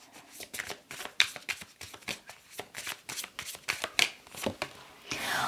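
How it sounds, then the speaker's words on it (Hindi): Tarot cards are shuffled by hand in quick, crisp riffles and slaps, a rapid run of sharp clicks and flutters close up, ending in a longer smooth rustle. "कार्ड शफल करते हैं।"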